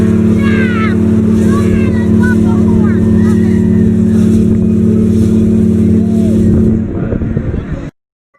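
A ship sound effect plays loudly on a live stream, a deep, steady horn-like drone that holds for about seven seconds, fades and cuts off abruptly, with voices chattering over it.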